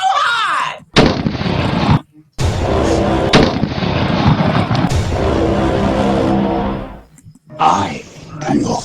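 Soundboard gunshot effects fire as loud, sharp blasts, several heavy booming shots in quick succession separated by brief silences, close and dominant.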